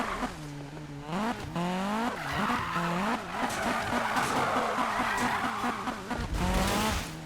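A Volvo 242 drifts in the racing game Need for Speed (2015), its engine whining and shifting pitch under continuous screeching tire squeal as the car slides sideways.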